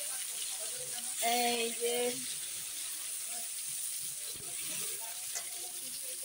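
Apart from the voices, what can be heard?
bitter gourd (karela) frying in oil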